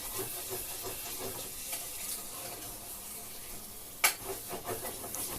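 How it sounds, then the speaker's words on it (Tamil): Chicken sautéing in a pan with ginger garlic paste for a green chicken semi-gravy gives a steady, moderately quiet sizzle and hiss, with one sharp clink of a utensil near the end. "இஞ்சி பூண்டு பேஸ்ட் எடுத்து போட்டுக்கோங்க. போட்டுட்டு நல்லா வதக்கி விட்டுக்கோங்க."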